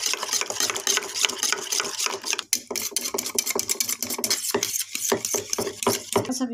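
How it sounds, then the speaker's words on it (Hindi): Chicken being whisked with masala and Kashmiri chilli for a pulao marinade, a busy run of quick scraping, clinking stirs against a bowl, steady and close, with no talking. "तो गाइज हम इसको अच्छे से फेंट लेंगे।"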